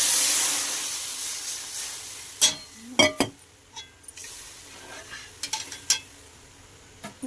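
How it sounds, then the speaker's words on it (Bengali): Water poured into a hot pan of fried chicken and vegetables while making momos, giving a steady sizzle and hiss with a few sharp clinks and stirring knocks from a utensil, near and fairly quiet. "আমি এবার এর মধ্যে জল অ্যাড করব।"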